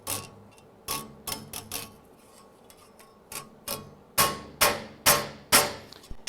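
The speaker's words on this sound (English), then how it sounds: "And I'm going to hammer right on the weld." Hammer striking a sheet metal weld held on a dolly atop a vise, sharp metallic taps, scattered and lighter at first and then a firmer run of ringing blows, close and alone.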